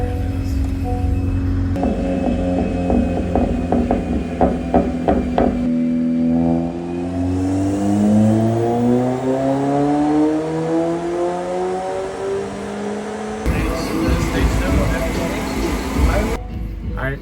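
A 2022 Honda Civic Si engine on E30 fuel revs up steadily under load during a dyno pull, pitch climbing for several seconds, then drops off, with clattering mechanical noise and voices around it.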